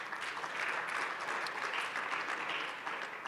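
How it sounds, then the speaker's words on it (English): A seminar audience claps in a sustained, dense round of applause, even and continuous throughout at moderate loudness, with no speech over it. "Another round of applause,"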